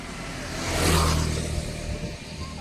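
A car passes on a road during a rainy-season trip, its engine swelling to a peak within the first second and then receding into a steady background hum.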